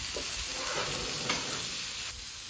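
Squash and zucchini sizzle in avocado oil on a Camp Chef flat top griddle, a steady close hiss of frying with faint stirring scrapes and no talking.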